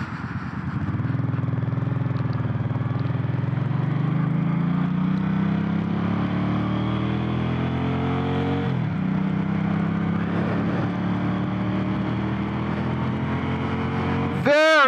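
Suzuki M50 motorcycle engine running steadily and close, its low rumble rising in pitch as the bike accelerates and shifts, with a short engine-braking dip near the end; no talk.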